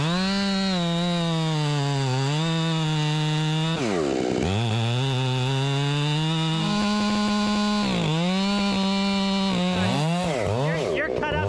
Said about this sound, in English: Randy, me and Isaac are gonna do the back cut.